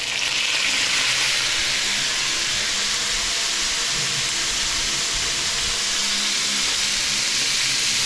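Chicken fries with onions in a hot pan, giving a loud, steady, close sizzle with hissing steam that runs without a break and has no talk over it.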